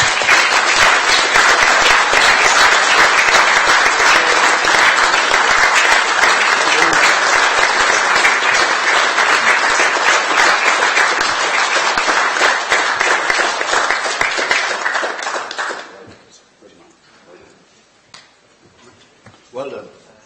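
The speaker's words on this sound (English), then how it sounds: "Give him a clap." Sustained loud audience applause at a council meeting honouring a certificate recipient, a dense steady wash of clapping for about fifteen seconds that then fades out into quiet room sound.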